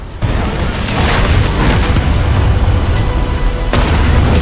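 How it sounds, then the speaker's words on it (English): Artillery fire in the War Thunder tank battle, a continuous loud roar of heavy booms and rumbling blasts layered over one another, with a sharper crack near the end. "Artillery starting to be dropped on our MBT participant could potentially make it be very difficult to hear"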